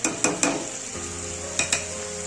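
Whole spices tipped into a hot pan for a pui shak and pumpkin curry, sizzling steadily with a few sharp clinks of a stirring spoon against the metal.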